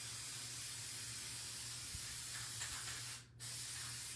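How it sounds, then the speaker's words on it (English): Aerosol can of Mod Podge sealer spraying in a steady, continuous hiss for about three seconds, then cutting off briefly before a short final burst, recorded close up. "I'm going to spray this right away with Mod Podge."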